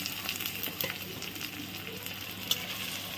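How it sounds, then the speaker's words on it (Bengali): Garlic and ginger paste fries in a pan with a soft, steady sizzle and crackle, occasionally stirred, close by with no speech. "এবারে এটাকেও খুব ভালোভাবে কষিয়ে নেব"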